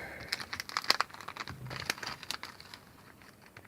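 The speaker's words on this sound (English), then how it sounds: "let's open the stickers" A plastic blind bag of Batman v Superman stickers is crinkled and torn open up close, with soft irregular crackling and rustling, fairly quiet and with no talking.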